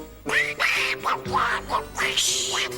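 A duck quacking loudly and close, four or five nasal quacks in a quick uneven sequence with no voices over them.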